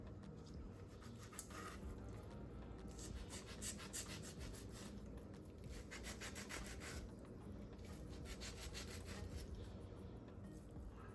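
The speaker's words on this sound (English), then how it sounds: "first I'm going to start by putting some slits along the skin" Knife scoring slits into the skin of two whole red snapper on a kitchen board, with steady close scraping and rubbing strokes running throughout, no talking.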